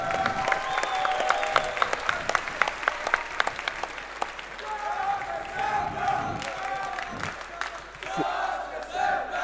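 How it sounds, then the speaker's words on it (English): A large crowd at the DreamHack Summer 2011 esports grand finals claps and cheers loudly throughout, with shouts rising over sustained applause and a voice on a PA speaking beneath. "Give yourselves a round of applause"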